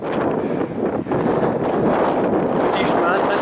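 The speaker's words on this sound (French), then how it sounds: "Et il y a du vent, comme vous pouvez certainement l'entendre." Strong wind buffets the microphone during a bikepacking ride near Castelnaudary, a loud continuous broadband roar with brief dips, steady throughout.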